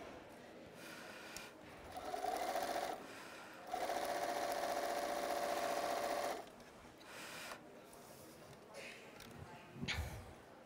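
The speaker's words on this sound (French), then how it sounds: "Et donc maintenant, je vais coudre ici." Sewing machine stitching quilt fabrics placed right sides together, running in two sustained bursts of steady mechanical whirring with brief pauses between, close and fairly loud, with some quiet handling noise afterward.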